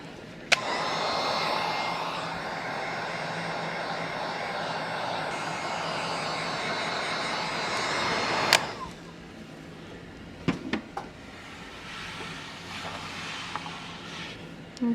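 A handheld dryer blows steadily and loudly for about eight seconds over chalk style paint on textured wood, then cuts off, leaving quiet handling noises and a few light clicks.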